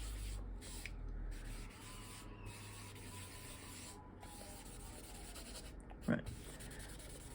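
Soft rubbing on paper, smoothing down a coloured cloudy background, a faint continuous scratchy brushing with a brief louder scrape near the end and one short spoken word.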